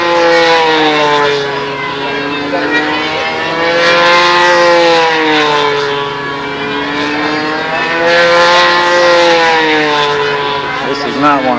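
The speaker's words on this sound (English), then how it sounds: "That motor sounds like it's a little bit strong." Model airplane engine at a 2004 world championship event, a loud continuous whine with wavering pitch that rises and falls across the whole stretch, as if circling, with people talking underneath.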